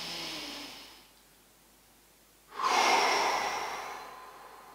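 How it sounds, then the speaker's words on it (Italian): Slow, deep breathing during a home stretching exercise: a long exhale fades into a pause, then a strong, close breath rises and slowly tails off, with no talking. "Respirazione lenta e profonda."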